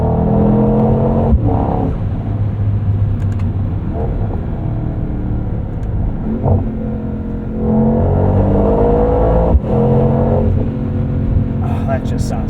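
A 2024 Mercedes-AMG GT63 coupe's 4-liter twin-turbo V8 accelerates hard, a deep rumbling exhaust and induction roar rising and falling through the gears from inside the cabin, with a voice talking over it.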